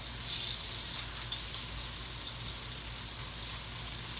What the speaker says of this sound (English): The smell of fresh fried okra.